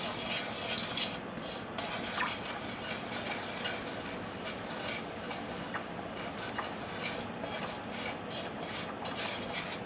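Hot peppers being stirred in a pan for a vegetarian dish, giving a continuous close scraping and rasping with a soft sizzle, steady throughout with no talking.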